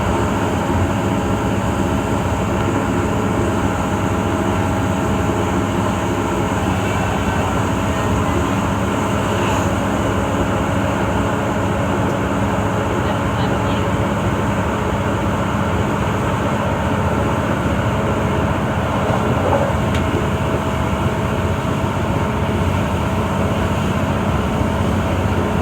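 Steady rumble and hum inside a moving train carriage, with a constant drone, tonal whine and faint clicks running throughout with no talking.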